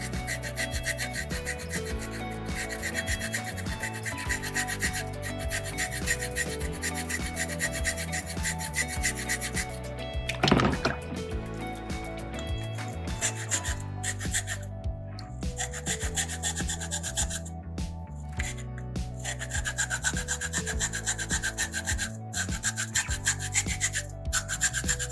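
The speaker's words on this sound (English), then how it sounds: "Constant pressure, constant contact, scrubbing that rock away." A rasp scrubs steadily across soapstone during carving, a continuous close gritty scraping in rhythmic strokes that goes on without a break.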